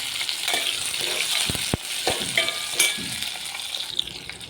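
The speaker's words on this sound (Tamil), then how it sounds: "நம்ம எடுத்து வச்சுருக்க மசாலா இது எல்லாத்தையும் ஒன்று வதக்கி எல்லாத்தையும் எடுத்துக்கணும்" Masala sautéing in oil in a kadai for an eggplant gravy, with a dense, close sizzle punctuated by scraping and clinks of a spatula against the pan.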